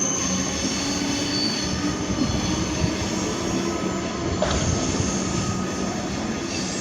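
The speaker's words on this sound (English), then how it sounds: "The rare and oldest train of all." An old Richmond Metro train passes Platform 4 at Richmond station, a steady loud rumble of wheels and carriages rolling by close at hand, with a brief squeal partway through.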